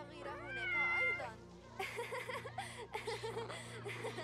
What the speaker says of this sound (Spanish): Mira cómo ronronea.